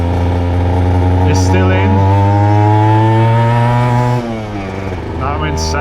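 A custom Honda RS125 two-stroke motorcycle revs hard through first gear, a loud buzzing whine climbing in pitch, then drops after a shift into second and climbs again, with a rider talking over it.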